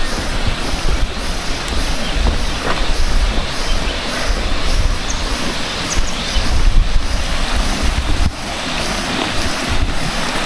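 A river in a small valley village flows with a broad, constant rushing wash of water, loud and close, blended with wind buffeting the microphone and no talking.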